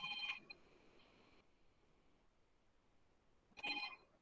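A telephone rings in two short bursts, one at the start and another near the end, faint against a quiet room with no talk.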